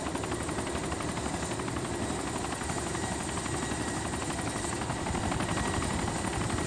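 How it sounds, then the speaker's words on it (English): A helicopter in the video game Arma 2 DayZ produces a steady, dense rotor thrum and whine that holds at an even level throughout, fairly faint and without talking. "I think I hear another heli."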